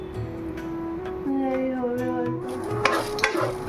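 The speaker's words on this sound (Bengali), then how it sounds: "এখানে হচ্ছে ভাত ভাজা" Cooked rice is stir-fried in a home kitchen pan, with a soft sizzle and the scraping of a spatula. A low drone and a few sharp clicks run under it, and no one speaks.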